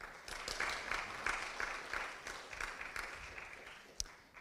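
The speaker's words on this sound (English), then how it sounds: "Applause." An audience at a scientific talk applauds after the speaker finishes, a faint, steady patter of many hands clapping for several seconds, heard from a distance.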